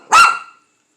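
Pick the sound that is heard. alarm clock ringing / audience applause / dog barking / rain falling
dog barking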